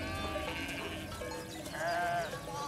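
Sheep bleat from within a flock watched over by guardian dogs, several overlapping wavering cries layered on a busy outdoor backdrop, some close and some farther off.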